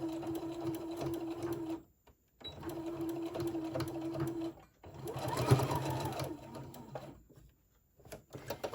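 A sewing machine back-stitches over elastic on a fabric face mask, its motor whirring in runs of a couple of seconds separated by short pauses, close and clear.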